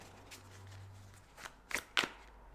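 A few quick rustles and sharp card snaps of a tarot deck being shuffled, close and fairly quiet, ending in two crisp flicks.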